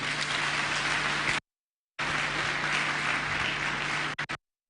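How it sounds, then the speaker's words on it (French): Audience applause for the parents at the Concours Général awards ceremony during a speech by the President of the Republic: two sustained bursts of dense clapping from a large crowd, with a short silent break between them. "Je souhaite qu'on applaudisse très fort les parents."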